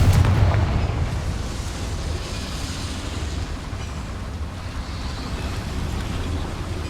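A rumbling explosion from the Confringo spell in Hogwarts Legacy booms at the start and fades into a long, deep roar.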